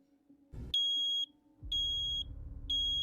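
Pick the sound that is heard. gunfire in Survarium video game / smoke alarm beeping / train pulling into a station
smoke alarm beeping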